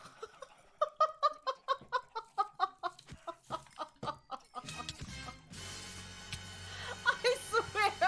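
Chickens in the Minecraft video game cluck in a rapid, rhythmic run of short calls, then a dense burst of many overlapping clucks and squawks spills out over a busy game background.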